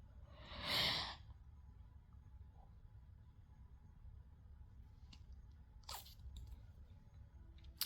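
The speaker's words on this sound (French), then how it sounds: "Désolée, hein, du bâillement, des bâillements, je suis désolée" One breathy yawn from a woman swells and fades within a second, quiet and close, followed by faint rustles and small clicks in a calm room.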